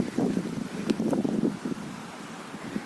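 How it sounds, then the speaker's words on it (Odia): Strong wind on a hilltop where a flag has torn off its bamboo pole, gusting steadily and buffeting the microphone with a rough, continuous roar. "କି ପବନ ଦଉଛି ଏଠିରେ।"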